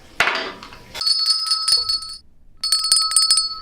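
A bright metallic bell rings twice in a studio in sustained, shimmering bursts after a short clatter, close and loud, with a brief pause between rings.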